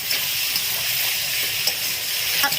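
Tomato fish curry with snakehead murrel hissing and sizzling in a pan over a wood fire as a little water goes in, a steady close frying hiss with faint stirring, no voices.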